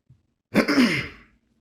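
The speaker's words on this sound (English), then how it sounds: "Sorry, I had to clear my throat" A single short, throaty clearing of the throat, close and fairly loud, after a tiny click.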